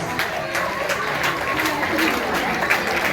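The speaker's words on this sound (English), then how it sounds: "Everybody please give a big round of applause." A crowd applauds continuously at a planetarium event, dense clapping filling the room at a steady, loud level throughout.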